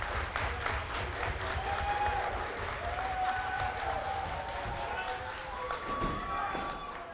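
A pro wrestling crowd in Nanaimo cheers and applauds steadily at the start of a main event, a dense, continuous roar with commentary voices talking over it.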